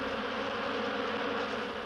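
Bees kept in artificial hives buzz in a dense, continuous drone, close and steady throughout, with no voices.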